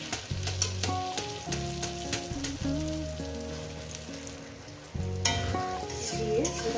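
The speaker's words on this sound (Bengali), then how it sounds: "এটাকে এক থেকে দেড় মিনিট কষিয়ে নেবো" A carp (katla) fish head being sautéed in a pan with crushed ginger, loud frying sizzle with repeated scraping and stirring strokes of a spatula against the pan, close by and without talk.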